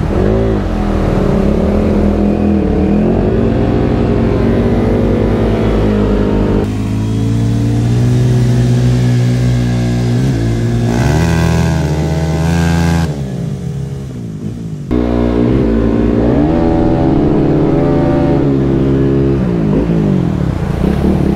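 A motorcycle ridden off-road through deep water and slippery ground gives a loud, continuous engine drone that rises and falls as the revs change.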